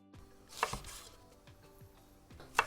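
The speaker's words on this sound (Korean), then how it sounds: "북어를 겹쳐서 같은 길이로 먹기 좋게 자르겠습니다." A knife cuts through stacked dried pollack on a board, giving a few sharp, separate chopping knocks against a quiet background.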